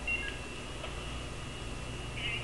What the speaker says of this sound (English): My mom's beeping in.